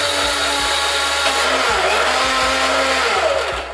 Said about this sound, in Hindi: अब इसे बंद करते हैं और मिक्सर को चालू करते हैं